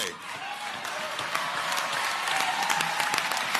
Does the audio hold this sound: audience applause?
yes